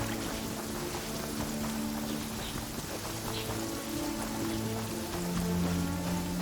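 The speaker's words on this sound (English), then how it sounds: "Taking a stroll in the middle of a downpour certainly rouses the spirit" A steady rain downpour in the open world of Genshin Impact, a dense wash of drops hissing on surfaces, layered over a low continuous game music bed and lasting throughout.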